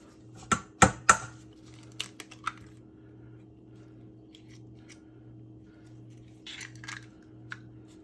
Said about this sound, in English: we're going to get our eggs cracked into this bowl here